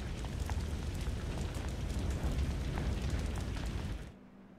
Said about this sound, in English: There's an explosion outside the camp!